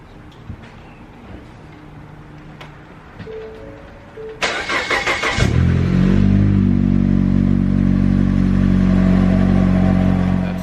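An Audi RS5 engine cranks and fires up close by after some quiet handling noise, then settles into a loud, steady, deep idle with a throaty rumble as the car is readied to pull out.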